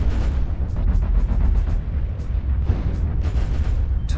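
In MechWarrior Online, a destroyed mech blows up in a canyon battle: a deep rumbling explosion with repeated booming bursts and crackling debris, loud and sustained for several seconds with no talk.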